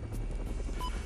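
A police helicopter hovers overhead during a foot chase across fields, its rotors and engine making a steady, low, continuous drone that stays level throughout.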